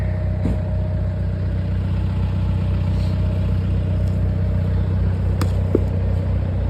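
A CAT 966M wheel loader pushes wood into a woodshed, its heavy diesel engine holding a steady deep rumble close by, with a few faint knocks and clanks over the drone and no one talking.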